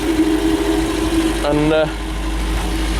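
An MGB GT engine idles after a head gasket change, with a steady low rumble and hum, while a voice briefly speaks over it midway.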